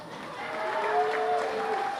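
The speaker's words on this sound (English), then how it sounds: "So give them a round of applause." An audience at a roadhouse veterans fashion show and motorcycle ride event applauds, a steady wash of clapping at moderate distance with a tonal whine running through it.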